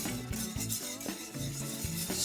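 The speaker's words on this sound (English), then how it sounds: "stir it in small little batches here, so it's all nice and dissolved" White sugar being stirred into hot lime syrup mix in a pot, a steady scraping swirl with a few sharper knocks of the spoon, close and continuous.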